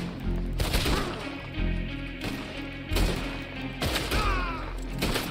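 Gunfire in Red Dead Redemption 2 rings out in loud, close bursts, several shots a second or so apart, each with a booming thud and ringing tail, with no talking.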